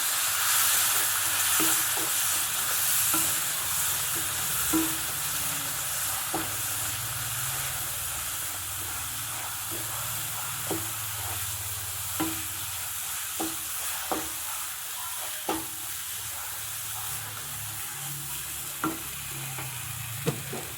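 Batter for breakfast appam being stirred after hot water is poured in, a steady wet swishing with soft rhythmic scrapes and taps recurring every second or so, moderately close with no talking.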